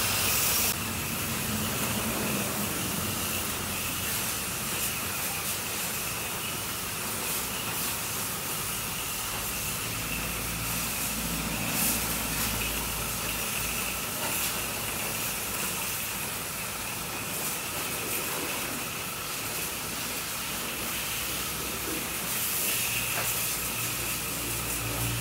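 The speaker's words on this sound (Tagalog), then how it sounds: "Basta mas spray lang para malaglag ang dumi." A pressure spray hoses dirt off a delivery vehicle, giving a continuous loud hiss with an engine-like rumble underneath, steady throughout with slight fluctuations and no talking.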